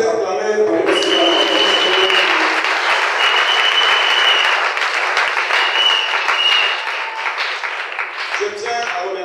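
Church congregation applauding and cheering loudly, sustained dense clapping with whoops running for several seconds before tapering near the end.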